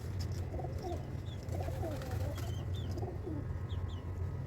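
Pigeons in a backyard coop coo in soft repeated calls over a low, steady hum, with faint chirps scattered through.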